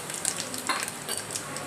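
Cumin seeds, asafoetida and turmeric sizzle in hot oil as the tempering for vegetable pulao is stirred, a steady close crackling hiss over a brief moment with no talking.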